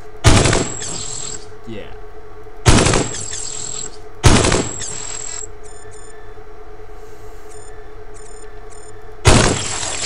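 Heavy cannon blasts in the game Cogmind, four loud, sharp shots spaced a couple of seconds apart, each followed by a brief crackling decay, with electronic beeps between and a short word spoken.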